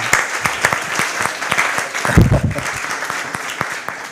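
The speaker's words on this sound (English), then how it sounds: "Can we get a huge round of applause for DeNites?" Applause from a small audience at a blockchain community event, with distinct close hand claps in an uneven rhythm and a brief burst of murmuring voices.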